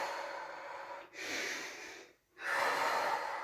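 Heavy breathing during an exercise session, with three long audible breaths in a clear in-and-out rhythm separated by short pauses, close and breathy.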